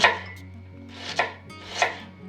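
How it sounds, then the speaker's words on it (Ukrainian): A knife chops a large onion on a cutting board in a few separate strokes, crisp and close, over a low steady hum in a quiet room. "Велика цибуля я розрізаю, половину розрізаю ще раз."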